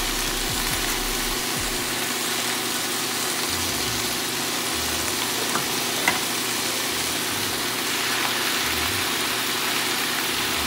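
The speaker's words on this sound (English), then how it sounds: "we'll fry it all together for about 1 to 2 minutes" Udon fries in a pan together with browned meat and mushrooms, making a steady close hiss that holds evenly throughout with faint stirring noises underneath.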